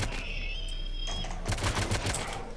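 Rapid bursts of gunfire in the colony-building game RimWorld crackle close and loud, a quick string of sharp shots following a brief lull, with no talking.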